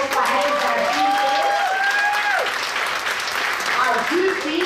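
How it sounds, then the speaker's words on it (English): Loud audience applause at an arts festival performance, close and sustained clapping from a crowd, with excited voices and whoops rising over it throughout. "please give them another warm round of applause for Hayes and Beanie."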